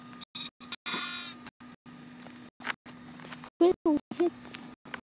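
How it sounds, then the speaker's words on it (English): Sheep bleating in the Minecraft video game, several short bleats near the end amid choppy game sounds, with a person talking over parts of it. "Sheep!"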